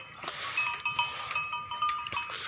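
Goats and young kids bleating repeatedly while grazing on fodder outdoors, several short calls overlapping close by over a steady background.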